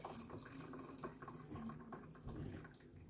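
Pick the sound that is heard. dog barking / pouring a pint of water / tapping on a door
pouring a pint of water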